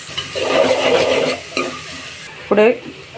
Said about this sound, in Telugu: ఉల్లిపాయ, పచ్చిమిరకాయ ముక్కలను కూడా వేసేసుకొని వేయించుకున్నాం